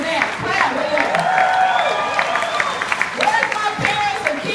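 Conference audience in Ocean Shores clapping and cheering as parents respond to a speaker's call, a continuous patter of hands with a speaking voice running over it throughout.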